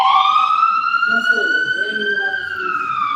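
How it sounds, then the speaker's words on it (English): A wailing ambulance siren rises and holds steady, loud and fairly close, with a faint voice murmuring underneath. "That's the ambulance."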